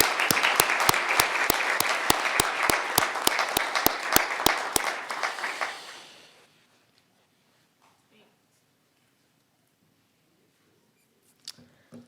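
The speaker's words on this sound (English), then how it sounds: "giving him a big round of applause here" Applause from a council meeting audience, dense and steady for about six seconds with a few sharp claps standing out, then fading into near silence before a faint stir at the very end.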